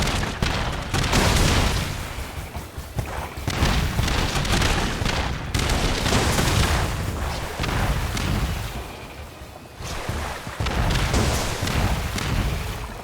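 Gunfire and booming blasts from the video game Cat Quest 3, a dense, continuous barrage of loud shots and explosions with no talking.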